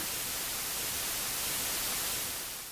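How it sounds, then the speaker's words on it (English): Steady hiss of radio static standing in for the cosmic background noise picked up by Penzias and Wilson, an even broadband wash that holds level and then fades slightly at the end. "to just the band of noise detected by Penzias and Wilson"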